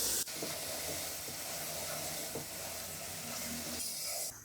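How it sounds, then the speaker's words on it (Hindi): Ground spices sizzle and fry in a pot of oil for Afghani pulao, a steady close hiss running unbroken for a few seconds. "अब हम इसमें जो मसाले पीस के रखे थे वो इसमें डाल देंगे। मसाले डालने के बाद हम इसको 2 से 3 मिनट भून लेंगे।"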